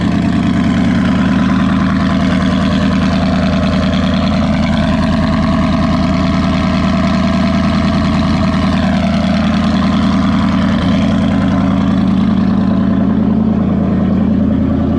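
A lifted Chevrolet Silverado truck engine idles steadily after starting, a loud, continuous low rumble with a constant drone that holds throughout, with no talking over it.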